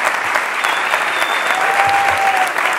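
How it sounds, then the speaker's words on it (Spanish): Loud, sustained applause from a stand-up comedy audience, a thick continuous roar of clapping filling the room, with a few faint voices and whistles mixed in. "Un fuerte aplauso a Nicolás de Trasí, fuerte aplauso."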